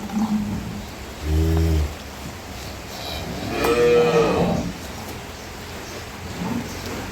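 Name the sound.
cows mooing on a dairy farm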